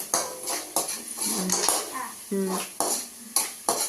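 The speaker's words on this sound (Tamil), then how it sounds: "தக்காளி வதக்கிட்டு இருக்கிறாரு பாருங்கள்" Tomatoes being sautéed in a pan at home: a spoon scrapes and clanks rhythmically against the metal over a soft sizzle, close and fairly loud, with faint voices in the background.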